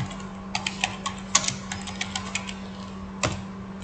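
Typing on a computer keyboard, a run of close, crisp key clicks at an uneven pace with a louder keystroke near the end, over a steady low hum and no talk.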